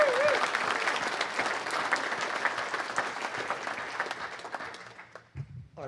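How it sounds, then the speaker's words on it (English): Banquet audience at a 25th anniversary welcome dinner applauding the event planners, a dense, steady clapping that fills the room, then thins and fades out near the end. "give a round of applause to Details, our event planners, the three ladies in the back"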